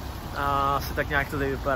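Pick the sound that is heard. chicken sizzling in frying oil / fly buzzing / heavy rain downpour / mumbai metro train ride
heavy rain downpour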